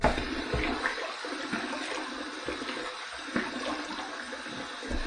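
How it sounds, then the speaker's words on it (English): Tap water running and splashing at a sink while a face is wetted before a shave with a stainless steel injector razor, a continuous close rush with small irregular splashes. "So let's wet the face."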